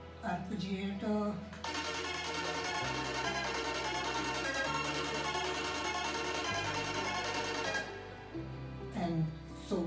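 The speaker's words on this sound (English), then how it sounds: "And I made this arpeggiator." A bright, rapid synth arpeggiator pattern in a dubstep production runs over shifting low bass notes, loud and dense, with brief gaps at the start and end where softer tones and a faint voice come through.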